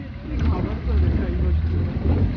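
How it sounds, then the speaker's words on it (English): A longtail boat's engine drones low as it approaches on the water near Hong Island in Krabi, with wind noise buffeting the microphone throughout. "So that is our longboat coming."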